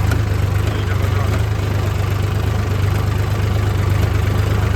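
A Mahindra Yuvo Tech Plus 405 4x4 tractor engine runs close while ploughing, a loud, steady low-pitched idle-like rumble with no break across the whole stretch.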